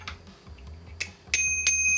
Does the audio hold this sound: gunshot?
no